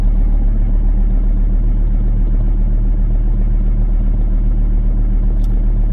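Car engine idling steadily just after starting, a constant low loud rumble with no talk.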